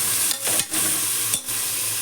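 Chopped onions and tomatoes sauté in a hot oiled pan, giving a steady close sizzle broken by a few brief pauses as they are stirred.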